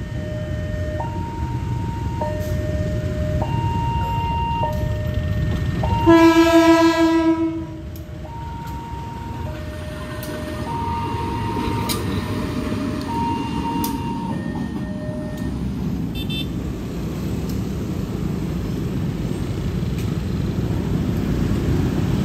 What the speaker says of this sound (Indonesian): Oke, lokomotif mundur.